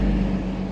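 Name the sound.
road traffic noise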